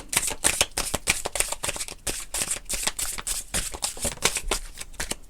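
Oracle cards being shuffled by hand in a steady run of rapid riffling flicks and soft slaps, close and fairly loud, with no talking.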